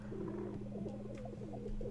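Soft, low cooing of doves in The Sims 4 repeats in a gentle rolling pattern over a steady background hum, fairly quiet and without talk.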